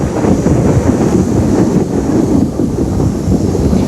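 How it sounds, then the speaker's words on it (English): A loud, sustained rumble of thunder rolls on throughout a violent tropical thunderstorm in Darwin, a deep, steady roar with wind buffeting mixed in and no voices. "pays surprisingly little attention to the violent thunderstorms that hit town for an average of 90 days a year"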